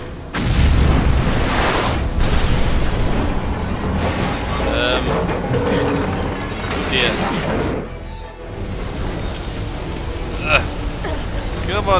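Booming explosions and crashing debris in Resident Evil 6 play out as loud, continuous game noise with rumbling blasts, while voices talk over the din.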